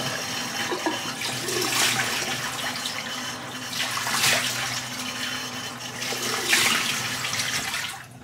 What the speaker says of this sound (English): Just empty the sink out of water.